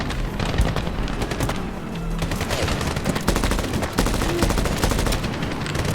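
Sustained, dense gunfire fills a Medal of Honor firefight, with rapid overlapping shots and booming impacts continuing without pause at close range.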